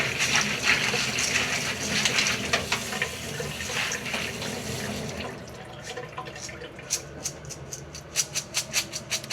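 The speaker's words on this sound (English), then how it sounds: "But just rinse the beans." Running tap water splashes steadily over beans being rinsed in a sink, then the flow stops and a series of rhythmic drips and small clatters follow.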